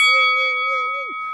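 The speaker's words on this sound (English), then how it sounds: "hit that notification bell" A notification bell ding sound effect: one bright, clear chime that rings out and fades over about a second, loud and alone.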